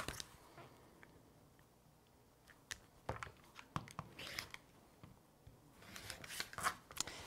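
Darker quilting fabric pieces being cut for a checkerboard star quilt block, a run of crisp, close snips and crunches that grows busier and louder toward the end, with no talking.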